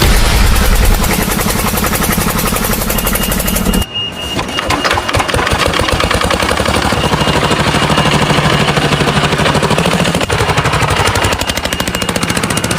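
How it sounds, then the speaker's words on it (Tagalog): A TMX motorcycle engine runs loud and steady throughout, with a dense rattling drone and a brief dip near the four-second mark before it resumes at full level. "Dito magmumotor kami gamit ng aming TMX na motor."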